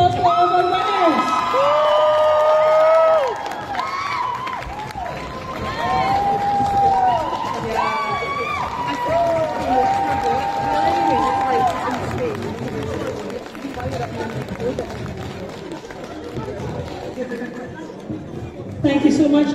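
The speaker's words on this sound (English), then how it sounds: "Can we get a big round of applause for all of our winners?" Crowd at a comic con cosplay contest and masquerade cheering, whooping and clapping for the winners, loud and lively with excited shouts and chatter, tapering toward the end.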